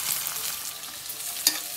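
Spaghetti for carbonara sizzles and is stirred in a hot frying pan, a steady close frying hiss with a sharp clink near the end.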